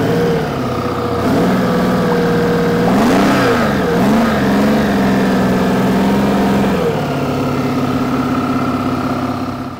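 A Foden two-stroke marine engine runs steadily up close, loud and throbbing, with a brief rise and fall in revs midway before settling back to an even idle.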